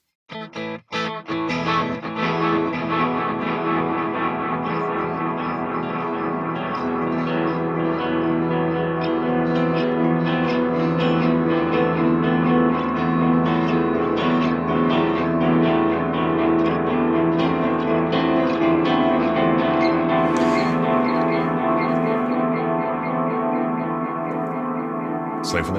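Electric guitar played through an amp suite, heavily distorted with delay and reverb, sustaining steady and loud before the delay repeats tail off in a fade at the end.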